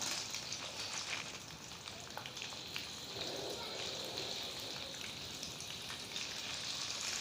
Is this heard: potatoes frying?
yes